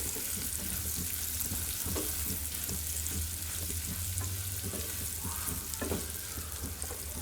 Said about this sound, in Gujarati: કાચી કેરીના ટુકડા વઘાર સાથે એકદમ સારી રીતે મિક્સ કરી લેશું